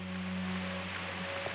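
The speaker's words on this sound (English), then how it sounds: "Overnight, torrential rain has once again battered the island." Torrential rain batters an island survival camp, a steady, dense hiss of falling water with a faint low hum running beneath, no voices.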